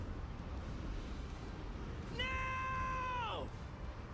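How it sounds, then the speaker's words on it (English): A cat in the Bleach: REbirth of Souls video game lets out a single long, drawn-out meow that falls in pitch at the end, clear and prominent over a low background hum. "Why is there a cat?"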